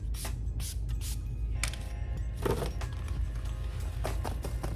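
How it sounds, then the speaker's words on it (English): Jafra Cosmetics setting spray with coconut water and aloe, given several quick misting spritzes spaced over a few seconds against a steady low background hum. "I have a setting spray by Jafra Cosmetics"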